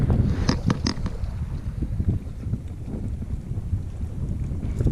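Wind blows at a lake in the Hoover Wilderness, buffeting the microphone with gusty low rumbles and a few sharp knocks, steady and close.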